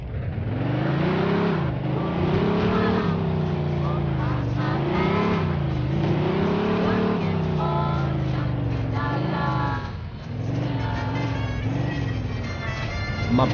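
A car engine in the video game Mafia 2 revs loudly and continuously, its pitch rising and falling through repeated throttle swells with gear changes, close and dominant throughout.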